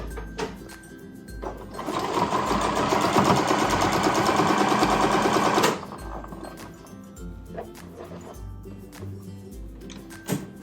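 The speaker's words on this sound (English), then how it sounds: "I am just gonna run a line of stitches to make sure that I like the tension and how it's sewing" A sewing machine stitches a test line of fabric, running steadily for about four seconds with a fast, even mechanical chatter, then stopping and leaving a quiet room with faint handling noises.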